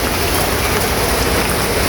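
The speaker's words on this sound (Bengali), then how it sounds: "কি যে বৃষ্টি হইতেছে ড্রামে পানি রাখছি" Heavy rain pours down in a loud, unbroken roar, close and dense, with no voices over it.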